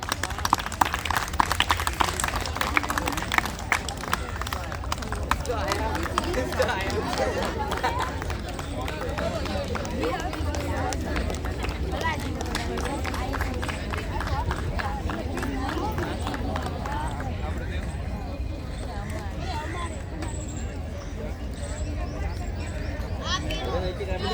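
An audience at a National Science Day prize ceremony applauds, with a burst of loud clapping at the start that settles into sustained applause and crowd murmur, and a voice speaks over it.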